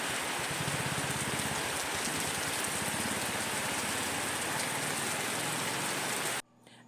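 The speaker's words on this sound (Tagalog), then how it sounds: "At kapag ganito ngang maulan," Steady, heavy rain pours down continuously on a gamefowl farm, a dense even patter that stops abruptly just before the end.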